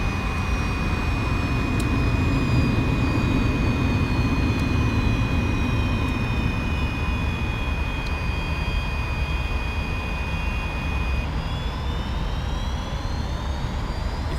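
An F-86F Sabre jet engine in a video game, coming in to land near Dubai. It gives a loud, constant roar and high whine that holds steady for the whole stretch, with no talking.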